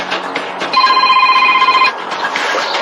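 A telephone rings once in a steady electronic tone lasting about a second, heard from a doorstep during a visit by bailiffs collecting a debt, with the rest quiet.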